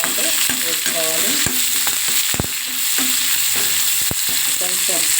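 Prawns and onions fry in a pan with a steady sizzle, while a spoon stirs and scrapes in uneven strokes that bring brief clanks and squeaks, close and loud.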